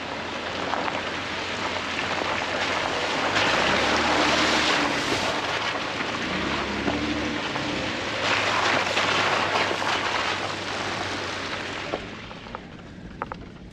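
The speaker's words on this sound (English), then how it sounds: "you can see how much water, the creeks are flowing" Creek water rushing over rocky ground on an outdoor overland trip, a steady broadband wash that stays loud and continuous, easing off slightly near the end, with no voices.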